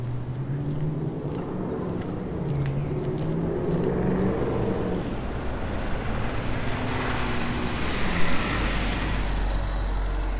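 Cars passing on an asphalt road outdoors, a steady rushing whir of traffic that builds and swells past, with some low engine hum throughout, close and continuous.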